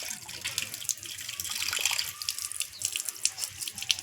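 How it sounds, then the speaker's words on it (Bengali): Water splashes and patters over a young calf during a bath, falling in an uneven stream of drips and gushes, close and fairly soft. "কত সুন্দর জল পড়ছে, চান করে নাও।"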